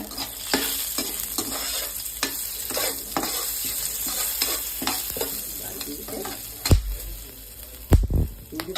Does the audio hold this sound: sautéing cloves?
yes